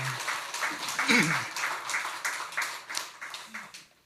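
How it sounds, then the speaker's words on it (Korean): A church congregation applauds after a choir hymn during a Sunday service, a steady patter of many hands clapping at moderate volume, with a voice briefly heard over it. "다시 한번 격려의 박수 하겠습니다."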